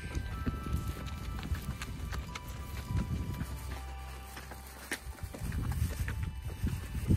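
Steady clip-clop of donkey hooves on hard ground, a continuous walking rhythm, fairly close, with faint outdoor background noise at Boquillas Crossing, Big Bend National Park.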